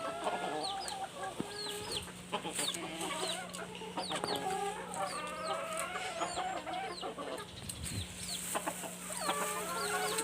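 Chickens and hens cluck steadily and busily while being fed, with occasional rooster crowing, a dense close flock sound with no talk.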